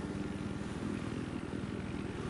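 A helicopter in the video game Battlefield 4: a steady, loud rotor drone with rapid low chopping pulses, continuous throughout with no talk.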